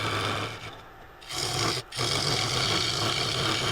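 A half-inch bowl gouge cuts the foot of a Claret Ash snack bowl spinning on a lathe, giving a continuous raspy shaving hiss that briefly eases twice as the tool lifts and then resumes.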